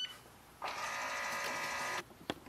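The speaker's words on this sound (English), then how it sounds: "Now switch on the printer," A Canon Pixma G7020 printer powering on: after a quiet start, a mechanical whirring motor runs steadily for about a second and a half, then stops, followed by a brief click.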